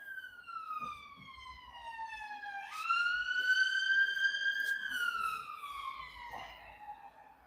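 An ambulance siren passes outside, its wailing tone rising and falling as it goes by, fairly distant but clear, with faint background noise and no one speaking over it.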